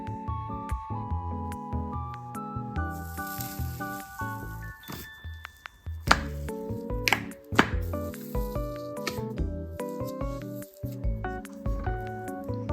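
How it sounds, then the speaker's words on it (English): Slime is poked and stretched in a close ASMR recording, giving soft squishes, sizzly crackles and scattered small bubble pops in an irregular rhythm, with a quiet musical backing underneath. "my slime had some great ASMR when you poked it. It was really stretchy and sizzly. It had some great bubble pops too."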